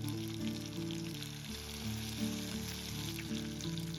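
A steady, fairly loud crackling sizzle of chicken wings frying in oil in a wok continues throughout, with melodic music playing over it.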